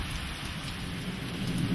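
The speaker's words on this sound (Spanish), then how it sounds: "Las lluvias escurren rápidamente, produciendo violentas crecientes." Heavy rain pouring steadily, a dense continuous hiss with a low rumble that fits distant thunder, with no voices over it.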